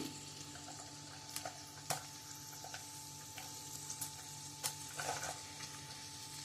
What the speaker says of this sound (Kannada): ಕಟ್ ಮಾಡ್ಕೊಂಡಿರುವ ಈರುಳ್ಳಿ ಎಲ್ಲನೂ ಜೊತೆಯಾಗಿ ಹಾಕಿ ಫ್ರೈ ಮಾಡುವ